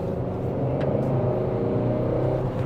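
Car under way on a long highway road trip, heard from inside as a steady engine hum and road drone with a faint whine, continuous and even, no voices.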